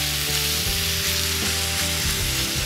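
Ground turkey browns in a pan in its own fat with no added oil, a loud, dense, continuous sizzle close up, with no talking.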